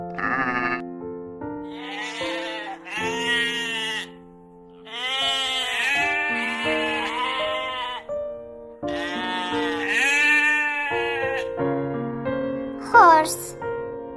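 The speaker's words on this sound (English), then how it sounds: "Sheep." Sheep bleating: several loud, wavering bleats close by, separated by short pauses, ending in a higher, strained cry.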